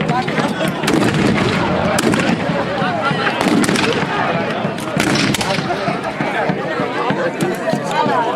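Repeated sharp musket and rifle shots crack through a battle reenactment of Bailén, scattered bursts over several seconds mixed with crowd noise and someone talking throughout.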